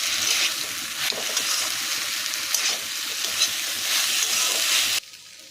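Corn for chilli corn stirred and frying in a pan, with a steady loud sizzle and occasional stirring scrapes that cut off abruptly near the end.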